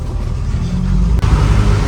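A Paykan car drives off, heard as a steady, close, low engine and road rumble with a brief dip partway through, loud and continuous with no talk.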